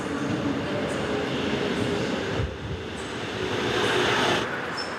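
A subway train rolling along with a folding bicycle aboard, a steady loud rumble and rattle of the carriage, with a brief dip in the noise midway and some high squeals.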